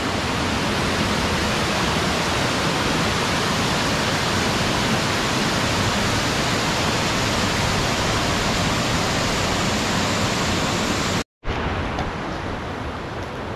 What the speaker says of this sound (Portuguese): Cara, que cachoeira maravilhosa.